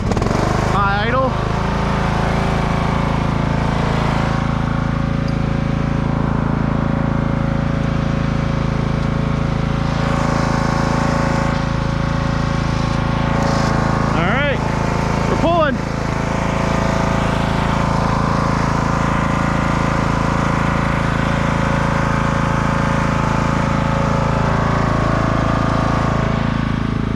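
Custom Husqvarna lawnmower engine held at a steady high idle, a loud continuous drone with a couple of short pitch blips partway through.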